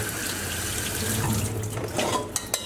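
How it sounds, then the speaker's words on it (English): A kitchen tap runs cold water over freshly boiled and strained potatoes, a steady close rushing stream that holds without a break for a few seconds. "we'll immediately run cold water and just bring the temperature down"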